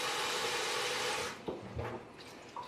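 Water is poured into a pot of corn on the stove in a steady rushing stream lasting about a second and a half, then stops, followed by soft clinks nearby.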